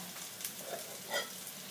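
Noodles and egg being stir-fried in a pan for Thai pad mee, with a soft steady sizzle and a few brief scraping stirs, fairly quiet and close, no voices.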